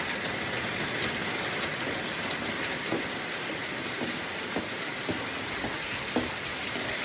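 Steady rain falls outdoors and overflows a rain chain and gutters, a dense even hiss with a few faint drips and taps standing out.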